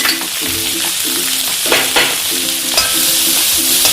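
Chopped onion and three thin-sliced green chillies sautéing in a pan after mustard seeds have popped, a loud close sizzle broken by repeated stirring scrapes, with no voices.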